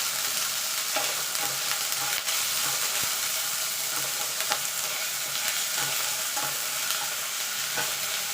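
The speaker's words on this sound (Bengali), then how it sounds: "আদাটাকে একটুখানি নাড়াচাড়া করে নেবো" Ginger paste being stirred in a hot frying pan while making pea-filled kachori: a steady, close sizzle with soft, repeated scraping strokes of the spatula throughout, and no talking.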